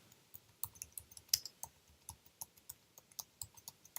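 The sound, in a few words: typing on a stiff computer keyboard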